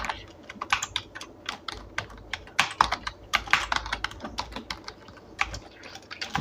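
Close, rapid typing on a computer keyboard while entering Python calculator code, with irregular bursts of sharp key clicks and occasional heavier thumps, heard alone and without talk.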